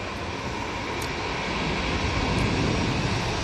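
An EasyJet airliner bound for Paris Charles de Gaulle takes off at Manchester Airport, its engines giving a steady, broadband roar that grows slightly louder and fuller across the clip, with no voices.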